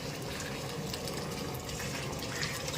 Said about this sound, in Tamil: புளியை ஊற்றலாம் சார்